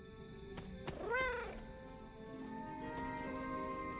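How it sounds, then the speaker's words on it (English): A single short meow from a cat in the game Marvel's Midnight Suns rises and falls once, quiet and fairly close, over a soft bed of in-game ambience and music. "I heard the kitty."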